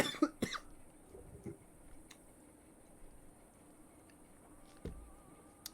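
A person coughs near a microphone during an online tabletop role-playing session, a few sharp coughs at the start and another later, over a quiet background hum.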